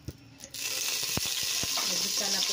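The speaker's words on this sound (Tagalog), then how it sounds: "Ayan, lagay na natin yung mantika." Cooking oil poured into a hot pan, bursting into a steady, loud sizzle after a few soft clinks, with scattered pops over a constant hiss, heard up close with no talking.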